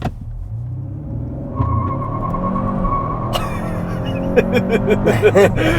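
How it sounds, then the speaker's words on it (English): A 2021 Hyundai Sonata N Line's engine builds from a low rumble into a hard, rising rev at full throttle, then tires squeal sharply and continuously as it accelerates, loud and close. "Non-stop tire squeal for days."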